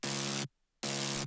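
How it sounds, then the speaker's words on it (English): A saw-wave synth patch layered with white noise and heavy distortion plays two loud, sustained buzzing hits separated by a short silence. "most important part is the white noise and the distortion"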